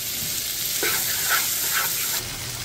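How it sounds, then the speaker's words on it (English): Tomatoes sizzle among frying spices in a pan for a lentil and chickpea curry, a loud, close hiss with scraping stir strokes that drops to a quieter, even fry near the end. "Now I'm going to add my tomatoes. I'm going to want my tomatoes to coat in these spices."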